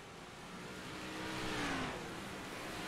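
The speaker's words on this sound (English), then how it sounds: "You listen to that car. He's really just kind of easing it out." A race car circling Weedsport track at easy, low speed, its engine a steady hum that swells slightly as it passes by at a moderate distance, with no voices.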